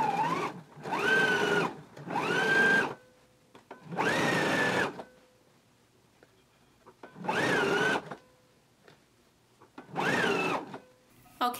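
A domestic sewing machine understitches a facing on a dress pattern, running in five steady whirring bursts of about a second each, separated by pauses of quiet.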